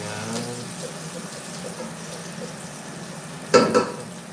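Garlic and ginger sautéing in a pot, a soft, steady sizzle running throughout with a brief louder clatter of stirring near the end.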